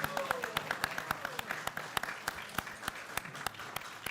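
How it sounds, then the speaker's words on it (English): Audience applause at a Krishna Katha feast lecture in an ISKCON temple hall, a steady patter of hands with sharp individual claps standing out, moderately loud, with a faint voice beneath. "So let's give a big round of applause."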